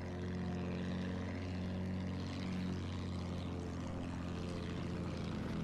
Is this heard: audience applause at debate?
no